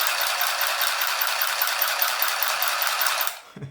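An Easymaxx handheld sewing machine runs with a fast, steady mechanical chatter and rattle, close and alone, before stopping abruptly near the end with a small clunk.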